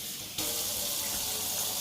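A kitchen tap abruptly turns on and water gushes steadily into a sink with a bright, even hiss, close by, with no talking, during stir-fry cooking.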